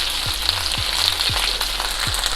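Fresh baby spinach leaves drop into a hot oiled pan and sizzle steadily and loudly, a continuous close frying hiss with a few soft stirring bumps and no voices.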